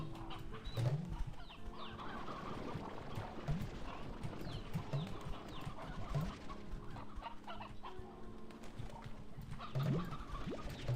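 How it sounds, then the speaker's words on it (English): Briar hens in the Slime Rancher video game cluck in short, scattered bursts over a busy, low-level game soundscape, with repeated soft fowl calls throughout. "Give me all these briar hens."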